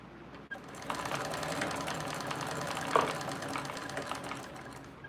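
A sewing machine bastes fabric panels at a 1/8 inch seam, running in a quick steady mechanical chatter after a brief start, near and alone.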